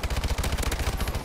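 Rapid automatic hip-fire gunfire in Call of Duty Advanced Warfare, a fast continuous burst of close, loud shots emptying a whole magazine with no pauses.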